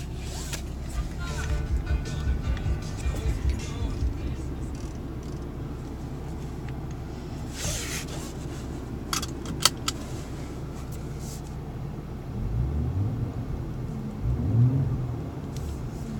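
A 2018 Porsche Cayenne GTS engine runs at a steady low idle with faint rattles and clicks, the revs swelling briefly near the end.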